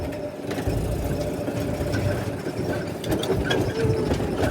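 A manual-transmission car's engine pulls steadily under acceleration in second gear, a continuous close-up drone with an even, rumbling mechanical texture and no talking over it.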